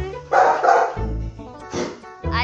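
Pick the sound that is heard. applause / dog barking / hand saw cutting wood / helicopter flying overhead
dog barking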